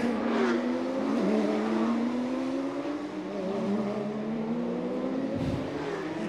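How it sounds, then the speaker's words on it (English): A Porsche safety car circles a street-circuit track during a Porsche Carrera Cup Asia race in Chonburi, its engine droning steadily with a rising pitch as it passes, loud and close throughout. "Here comes a safety car, a Porsche."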